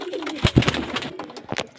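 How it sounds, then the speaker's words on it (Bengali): Pigeons cooing in a few short, soft bursts, close by, with faint fluttery background noise. "ভালো ভালো লাইনের পায়রা আছে দেখুন"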